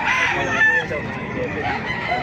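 Chickens cluck and a gamecock rooster crows nearby amid a busy farmyard din, with a voice faintly mixed in.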